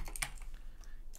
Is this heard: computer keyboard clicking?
yes